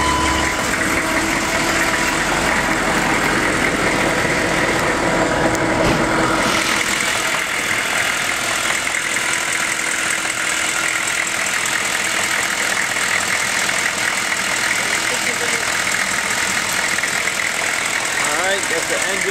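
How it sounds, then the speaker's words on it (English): A 2001 Chevrolet 3500 HD utility bucket truck's turbo diesel engine idles steadily and loudly up close with the hood open, a continuous rumble with someone talking over it. "That's the engine, turbo diesel."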